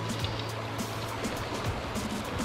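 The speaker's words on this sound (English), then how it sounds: "this water here is not the most ideal, because this is turbulent." Turbulent river water rushes steadily and close by, a continuous broadband wash with a low rumble, at a coho salmon fishing spot unsuited to spey casting.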